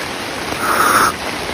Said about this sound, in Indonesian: Ini hujan guys. Deras banget tuh, lihat.